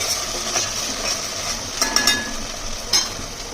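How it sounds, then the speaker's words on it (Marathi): Ginger, garlic and chili paste frying in a pan for chicken curry, a soft steady sizzle broken by a few sharp scrape and stir clicks from a utensil. "आता लसूण आणि आल्याचा कच्चा वास जाईपर्यंत थोडंसं फ्राय करून घ्यायचं"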